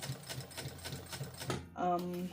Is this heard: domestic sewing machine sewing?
yes